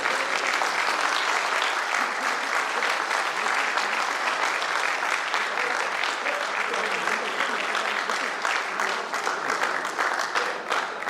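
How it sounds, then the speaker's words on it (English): Sustained audience applause fills a government collaboration meeting in Visakhapatnam, with dense, even clapping that continues loudly and steadily throughout. "Applause from the audience."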